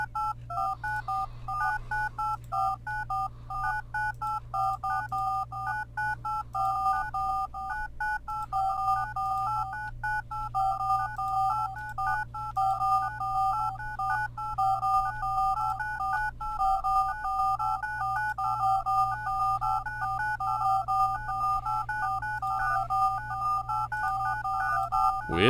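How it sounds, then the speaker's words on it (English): Steady two-tone telephone dialing beeps from phone flowers in the video game Islands: Non-Places, repeating in a rhythmic, melodic pattern over a low constant hum, loud and continuous throughout. "I can call people on these flowers. Like phone flowers."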